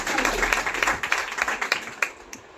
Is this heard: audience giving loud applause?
yes